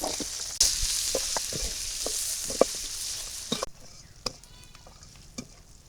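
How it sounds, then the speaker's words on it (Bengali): Chopped onion, garlic and green chili hit hot oil with a sudden loud hiss that sizzles steadily for a few seconds, then cuts out, leaving a few light clicks and scrapes. "দিয়ে দিলাম পিঁয়াজ রসুন আর কাঁচামরিচ"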